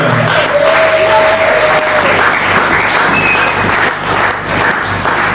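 A church congregation at an evening worship service gives loud, sustained applause, a dense wash of many hands clapping together that stays steady for several seconds.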